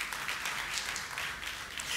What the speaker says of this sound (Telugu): చప్పట్లు కొట్టి స్తోత్రాలు చెల్లించండి